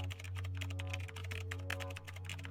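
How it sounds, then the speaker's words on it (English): Rapid typing on a computer keyboard, a dense run of sharp clicking keystrokes over a low steady hum, close and moderately quiet with no voices. "I proceeded to type on the keyboard."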